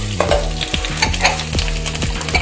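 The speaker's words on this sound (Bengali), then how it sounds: "এবার আমি কিছু কারি পাতা ফোড়নে দিয়ে দিলাম" Curry leaves spluttering in a tablespoon of hot white oil in a nonstick pan, a loud continuous crackle close by with rapid popping bursts and a few scraping stirs, no talking.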